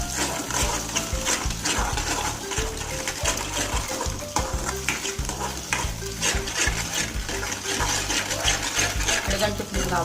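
Egg semiya noodles being stirred in a hot pan with steady scraping and sizzling frying underneath, a continuous loud mix of spoon strokes and crackle throughout.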